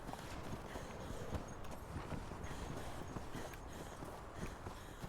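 Horse hooves clip-clop steadily across the ground in the survival game Conan Exiles, a continuous run of close, even footfalls alongside game ambience.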